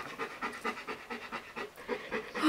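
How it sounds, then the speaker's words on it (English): A golden retriever pants loudly and rhythmically close by, quick repeated breathy huffs at a steady pace with no talk over them. "If you can hear really loud breathing, it's not us."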